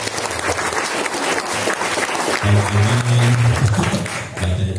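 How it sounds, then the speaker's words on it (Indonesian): An audience at a school seminar applauds, dense continuous clapping from a large crowd, loud and sustained, with a low musical tone entering partway through. "Tepuk tangan sekali lagi."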